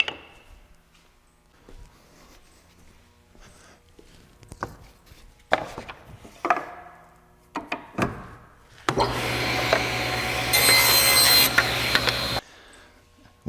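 A wooden piece for a tray base being cut, with scattered knocks and handling clatter followed by a loud, steady buzzing saw run lasting several seconds before stopping.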